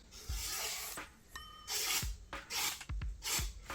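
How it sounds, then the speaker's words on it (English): A Nigara hamono kitchen knife slicing through newspaper, giving several close, dry rustling swishes and paper tears in quick bursts with short pauses between. "So I'll just cut some newspaper with it"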